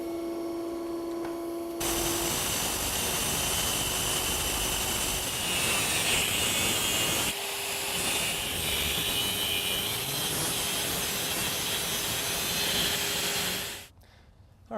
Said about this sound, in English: All right, so we have our 2 motor shafts cut down here now.